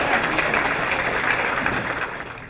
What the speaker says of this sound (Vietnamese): Xin quý vị cùng chúng tôi cho một tràng pháo tay thật dài